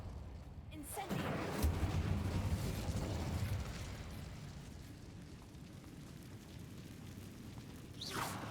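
An Incendio fire spell cast in Hogwarts Legacy, heard as a roaring, whooshing burst that swells after a second and holds for a few seconds before fading, followed by a sharper flare near the end.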